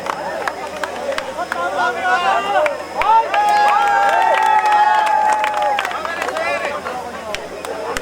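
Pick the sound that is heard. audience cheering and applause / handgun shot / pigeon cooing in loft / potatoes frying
audience cheering and applause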